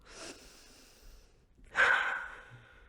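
A person doing a calm breathing exercise, a soft inhale followed by a pause and then a longer, louder exhale through the nose, close and alone with no talk.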